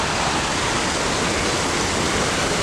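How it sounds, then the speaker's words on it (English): A waterfall in Qatar, heard as a loud, steady, broadband rush of falling water that fills the whole clip with no voices. "So this is the waterfall and this is the lake."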